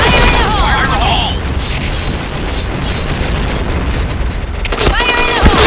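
Grenade blasts in a first-person shooter game thud and rumble loudly, with heavy booms at the start and end of the stretch and lower combat noise between, while players' voices are heard.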